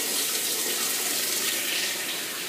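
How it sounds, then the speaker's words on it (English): Water rushes steadily into a washing machine as it fills, a continuous close gushing with no pauses and no voices. "turn your washer on"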